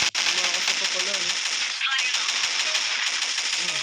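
Rapid automatic gunfire from the Gun Battle Party mobile shooter game rattles continuously and densely, close and loud, with a voice speaking over it.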